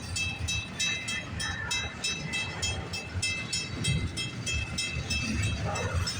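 CN freight train CNQ 107 rolls past at Pefferlaw Road on the CN line, a steady nearby rumble with rhythmic wheel clatter and a faint high ring over the passing cars.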